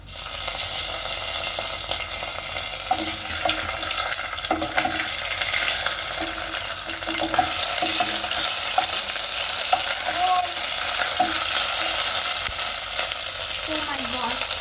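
Hot oil spatters as green chilies are sautéed with ginger and garlic, making a loud continuous sizzle with crackling pops and occasional stirring, and no speech.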